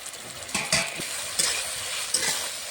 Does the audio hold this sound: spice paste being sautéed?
yes